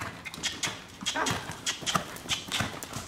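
Horse hooves clip-clop in a steady cantering rhythm on a riding surface, moderately close, with repeated three-beat strides running throughout.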